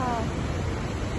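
Running water outdoors makes a steady, loud broadband rush close by, with no distinct splashes and no voices.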